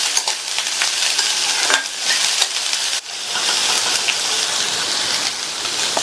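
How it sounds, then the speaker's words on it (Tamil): Finely chopped green beans sauté in oil over a high flame, giving a loud, continuous close sizzle with stirring scrapes and brief dips in intensity. "பொடியா கட் பண்ண 200 கிராம் பீன்ஸ் எண்ணெயிலேயே 2 நிமிஷத்துக்கு ஹை ஃப்ளேம்ல வச்சு வதக்கிக்கலாம்."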